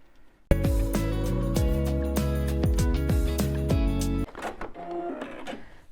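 A sewing machine stitches a seam across the top of a handmade Christmas stocking, running as one loud, steady mechanical whir with rhythmic needle clatter for about four seconds, then stopping and leaving softer handling noises.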